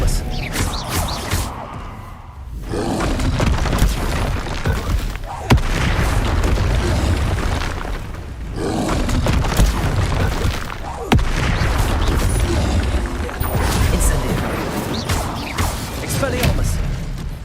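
Hogwarts Legacy spell explosions boom and thud repeatedly in heavy bursts, loud and close, with a voice speaking between the blasts.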